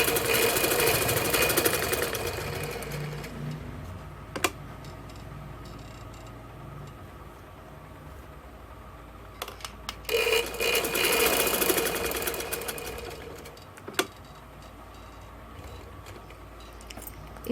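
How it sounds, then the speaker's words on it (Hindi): A sewing machine stitching a kurta seam whirs loudly in two bursts, one at the start and another near the middle, with the quiet rattle of the fabric being handled and a few clicks between them. "मुझे 8 इंच चाहिए तो मैं 8 इंच पे 8 इंच तक मैं सिलाई लगाऊंगी।"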